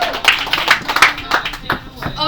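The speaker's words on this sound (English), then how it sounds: "Give yourselves a round of applause." An audience clapping at a communication workshop, a string of separate hand claps with an uneven rhythm alongside talking voices.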